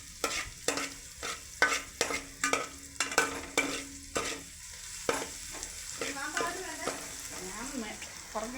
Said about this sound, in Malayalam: ഇഞ്ചി, വെളുത്തുള്ളി, ചെറിയ ഉള്ളി, കറിവേപ്പില ഇതെല്ലാം വെളിച്ചെണ്ണയിൽ